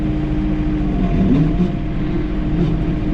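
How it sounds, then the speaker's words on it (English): John Deere 3046r compact tractor throttling up manually with the brush hog engaged, a close, loud, steady engine drone whose pitch wavers and climbs briefly mid-way. "I'm gonna throttle up manually, engage the brush hog"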